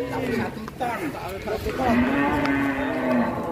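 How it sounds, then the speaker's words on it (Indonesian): A one-ton bull gives several loud, drawn-out moos close by, with people talking over and around the calls. "Sapi satu ton masih bisa lari,"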